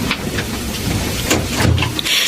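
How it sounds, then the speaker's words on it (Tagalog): Heavy rain pours down in a loud, dense, steady wash of noise with no gaps, close by and without clear speech. "Ang lakas ng ulan, ha?"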